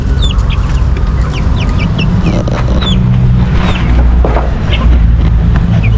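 Backyard chicks and chickens clucking and peeping while being fed in a small farm cage setting, with repeated short chirps over a steady low rumble of background noise.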